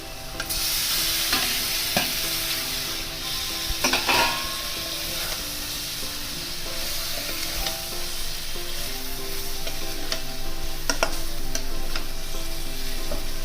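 Cauliflower florets sizzle loudly in hot oil in a pan, with steady frying hiss and repeated scraping stir strokes and occasional knocks of the spoon against the pan.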